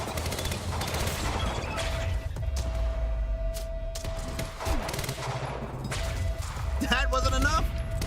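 Sniper gunfire in the video game Quantum Break, sharp shots cracking out amid a dense, busy game soundscape with steady background noise, a player talking over it.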